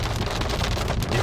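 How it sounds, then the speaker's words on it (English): Hail pours down during a thunderstorm in a dense, unbroken patter that stays loud and close throughout, with no voices over it. "It's hailing."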